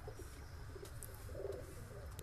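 High-flying pigeons coo softly in a breeding loft, low murmuring calls over a steady background hum, with a few faint chirps and no talk.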